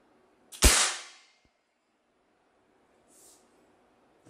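A single loud, close shot from a Swiss Arms P92 CO2 air pistol fired at a target, a sharp crack with a brief hissing decay, followed later by a faint distant tick and near silence.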